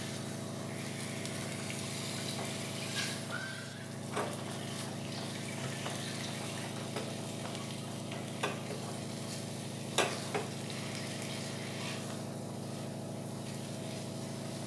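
Semolina mixture with rose syrup being stirred in a pan for sweets, a steady low bubbling hiss with occasional soft spoon knocks and scrapes against the pan, no voices.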